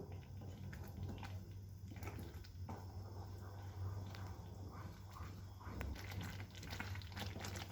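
Corn toast gravy stirred and mixed in a pan on a gas stove, soft scraping and wet squelching sounds continuing steadily at close range, with a low hum in the background.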